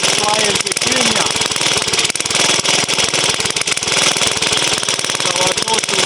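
A small vintage J.A.P. stationary engine runs at a rapid, steady chugging beat, loud and close, with someone talking over it.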